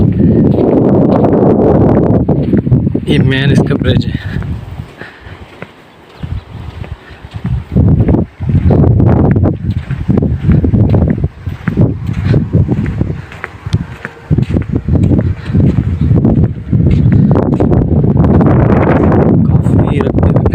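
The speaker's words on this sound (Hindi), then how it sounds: "तो इसलिए यहाँ काफ़ी हवा चल रही है।" Strong wind buffets the microphone on a high hilltop at Darawat Dam in Jamshoro, Sindh, Pakistan, a loud, gusting low roar that rises and falls throughout while someone talks over it.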